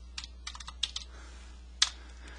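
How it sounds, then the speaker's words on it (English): Someone types on a computer keyboard in a quiet room, a few soft scattered keystrokes with one sharper clack near the end, faint and close. "Now I am going to type an edit."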